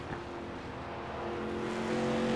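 Race truck in iRacing at the Indianapolis road course, engine droning steadily and building as it comes back on throttle, a continuous mid-level roar that grows louder toward the end with no talk.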